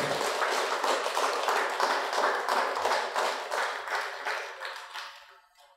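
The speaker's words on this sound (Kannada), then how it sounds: "ಶಿವಶಕ್ತಿ ರಾತ್ರಿಗೆ ಜೋರಾಗಿ ಒಂದು ಚಪ್ಪಾಳೆ ಮತ್ತೊಮ್ಮೆ ಕೊಡೋಣ." An audience at a Shivaratri gathering claps together in a dense, even burst of applause that holds steady before fading out toward the end.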